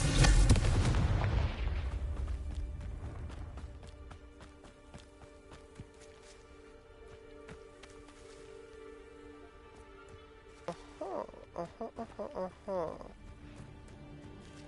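Confringo explosion spell in the video game Hogwarts Legacy, a loud blast at the start that rumbles and decays over a few seconds, followed by quieter ambient game sounds and some sharp clicks near the end.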